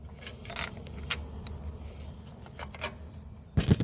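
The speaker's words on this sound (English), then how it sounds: "Take the bolt and the washer off" A bolt and washer come off a Husqvarna riding mower's steering wheel: faint metallic ticks and small clinks, followed by a louder clatter of metal parts near the end, with no talking.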